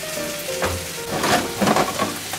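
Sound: mushroom soaking liquid simmering in pan

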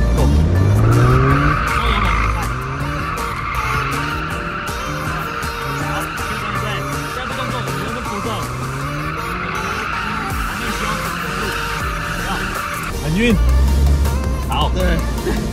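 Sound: car drifting with tire squeal

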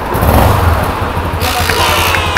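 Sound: motorcycle engine starting after a kick start

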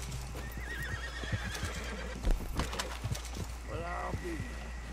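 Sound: horse neighing, from a video game

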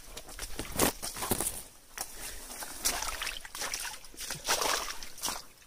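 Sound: rainwater stream flowing, wading through it

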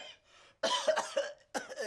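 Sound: cough

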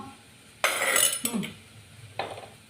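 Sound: stir-frying catfish with chili in a pan

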